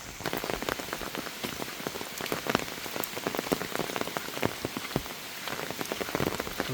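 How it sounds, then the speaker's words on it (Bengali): Heavy rain falls on a paved road on a rainy day in the Netrokona area, making a dense, steady patter of close drops that continues without a break and with no voices. "তো বৃষ্টির দিন, বুঝতে পারতেছেন পরিবেশটা"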